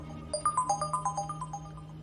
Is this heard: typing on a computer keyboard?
no